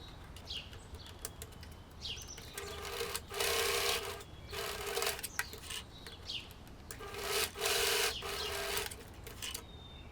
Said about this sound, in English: And now I top stitch along both edges.